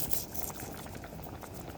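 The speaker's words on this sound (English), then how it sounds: "tomatoes that are cooking" Tomatoes cook down into spaghetti sauce in a pot, a soft, continuous bubbling and popping simmer heard up close at low volume, with no talking over it.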